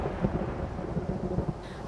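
Low rumbling thunder with steady rain underneath during a stormy scene at sea, continuous and moderately loud with no talking.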